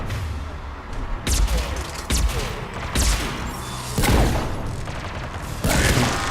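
Gunfire in the video game Mass Effect 3: a series of loud, sharp shots in uneven bursts, each with a booming low thump and a short crashing tail, with brief gaps between volleys.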